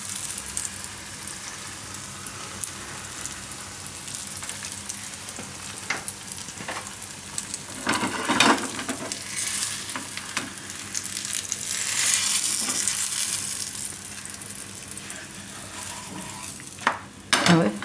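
A taro-stuffed paratha roasts on a hot pan, giving a steady low sizzle with occasional scrapes and taps of a utensil against the pan, close by and without speech.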